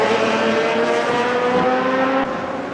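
Race car engines in the Automobilista 2 sim racing game, including a Maserati, drone loudly and continuously close up, pitch climbing through the gears with a brief drop near the end, no talking.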